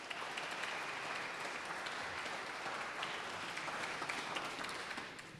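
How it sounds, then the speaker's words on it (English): Crowd applauding Washington State University president Kirk Schultz at the Champions Center celebration, a dense, steady wash of many hands clapping at once, sustained throughout and easing slightly at the end. "Please, a round of applause for our President,"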